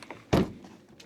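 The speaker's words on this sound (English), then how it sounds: "Door don't close." An old Audi's car door at a junkyard, faulty and not latching, gives a single loud thunk as it swings against the frame, then a faint rattle and quiet background.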